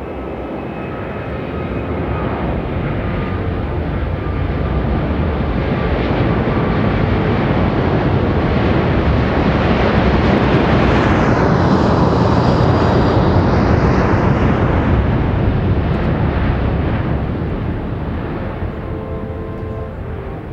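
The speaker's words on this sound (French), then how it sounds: "Thierry Bourges et Gérard Desbois, voici l'Airbus 380." An Airbus A380 airliner makes a flying display at the Paris Air Show. Its loud, sustained jet engine roar swells as it passes, with a sweeping pitch shift at its peak, then eases slightly.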